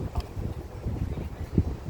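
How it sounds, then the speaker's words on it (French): Strong outdoor wind buffets the microphone in Cork, Ireland, a loud low rumbling roar with gusty swells and bumps over about two seconds. "En fait, il y a beaucoup de vent"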